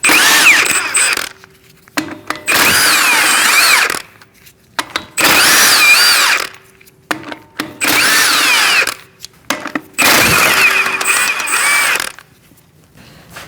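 Power tool spinning off the wheel lug nuts on a 2006-2011 Chevrolet HHR with the 2.4L four-cylinder, in five loud, close bursts of whirring and ratcheting, each lasting one to two seconds, separated by brief quiet gaps.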